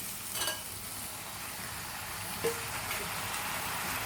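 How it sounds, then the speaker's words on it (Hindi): Fenugreek potatoes with chopped tomato sizzle softly in a pan, a steady low frying hiss with a couple of faint stirring scrapes, no voices. "अब इसे चला लेते हैं"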